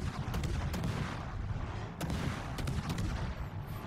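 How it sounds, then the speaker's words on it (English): Naval guns on the Dalarna destroyer fire in World of Warships, a dense rumbling barrage punctuated by several sharp cracking shots, loud and continuous. "now he's flooding, so we just open up and start shooting at him"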